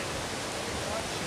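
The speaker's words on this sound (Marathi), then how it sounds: "हा जो आहे हा देवकुंड वॉटरफॉल नाही, याच्या बाजूला एक अजून वॉटरफॉल आहे" Water rushing over a waterfall beside Devkund falls in Tamhini Ghat produces a steady, dense roar that stays even and unbroken for a little over a second.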